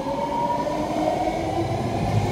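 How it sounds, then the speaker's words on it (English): A 9-car, 3-door Fleet of the Future Orange Line train pulls into platform 2 at a Fremont station, a continuous loud rolling rumble with a steady electric whine throughout and no voices. "the 9-car Richmond train 3-door fleet of the future is coming right now to platform number 2"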